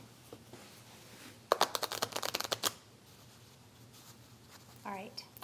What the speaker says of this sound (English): I will give them very good riffle shuffles, and I'll even give them a cut.